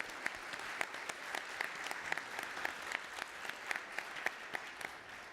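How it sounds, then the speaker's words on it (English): Steady applause from a conference audience at Atlassian Summit Europe 2017, with individual sharp claps standing out throughout, moderately loud and continuous with no talking. "round of applause for you guys"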